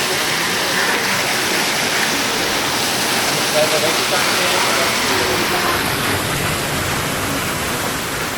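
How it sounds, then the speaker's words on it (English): The Waterfall of Angels on Madeira pours off a cliff onto a roadway, making a steady, dense roar of falling and splashing water that holds constant throughout, near and loud. "So this is the famous Waterfall of Angels. Cascades off the cliff onto the roadway here."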